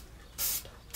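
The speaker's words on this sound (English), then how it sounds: "I know a lot of you guys have trouble with the spray cans too." A spray paint can hisses in two short bursts while a sign is lettered, loud and close, with a brief pause between them.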